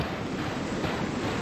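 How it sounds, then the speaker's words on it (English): Ocean waves in the PS1-style indie horror game No One Lives Under The Lighthouse, a continuous broad surf wash, steady and fairly loud with a windy edge, no talk. "Love the sound of the waves, though."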